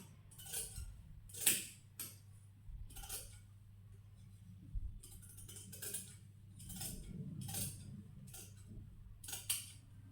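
Cloth for a short gown is cut with scissors in a series of separate crisp snips and slicing strokes at an irregular pace. The sound is close but soft over a low hum, and nobody speaks.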